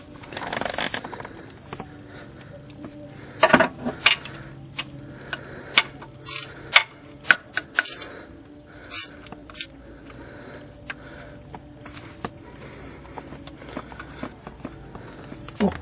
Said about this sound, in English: Now I continue removing the bottom bolt.